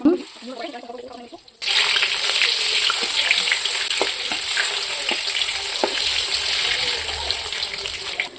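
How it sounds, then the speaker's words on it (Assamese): Taro leaf fritters drop five or six at a time into hot oil in a kadai, and a loud steady sizzle and bubbling starts abruptly, with light clinks of stirring. "এইফালে কেৰাহীটোত তেলখিনি গৰম হৈ গৈছে, গতিকে তাত এটা দুটাকৈ 5টা 6টামান একেলগে দিলোঁ বৰা।"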